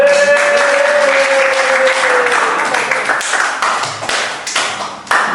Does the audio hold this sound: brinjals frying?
no